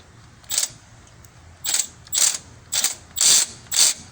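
Socket ratchet turning a bolt during a C15 water pump replacement: six short bursts of rapid clicking, close and clear, separated by brief pauses.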